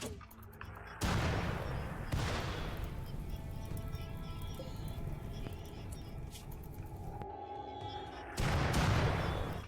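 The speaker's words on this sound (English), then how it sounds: "Holm and Kuro are going to man the mortars. And I'm going to try to antagonize this group by shelling them." Mortar shelling in the video game RimWorld, a series of loud booming impacts at intervals, each a broad burst of noise with a rumbling tail, the strongest near the start and end.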